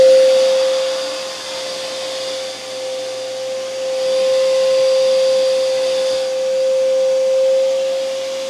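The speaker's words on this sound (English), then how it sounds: "So here I'm gonna turn on the vacuum" A RIDGID 16 gallon 5.0 peak HP wet/dry shop vacuum runs loudly and steadily, its motor holding a constant high whine with slight swells in intensity, no voices present.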